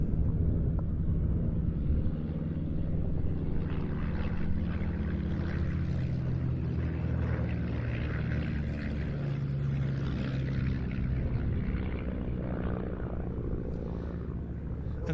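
Training aircraft flying past at an air display, a distant propeller drone that swells and fades steadily, fairly faint.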